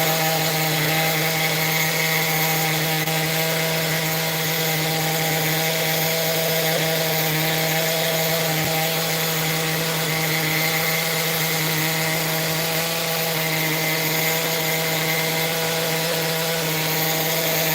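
A Kyosho GT1 nitro RC car engine runs continuously and loudly up close, producing a steady, high, buzzing whine with little change in pitch for the whole stretch, with no talking.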